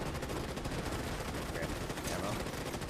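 Rapid, continuous gunfire in a Starship Troopers–style shooter game, a dense unbroken rattle of automatic weapons filling the whole stretch at steady loudness.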